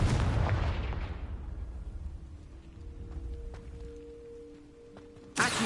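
A Confringo fire spell bursts in the Hogwarts Legacy video game, a loud broadband blast that decays over about two seconds into rumbling crackle, with faint tonal hums and a second sharp burst near the end.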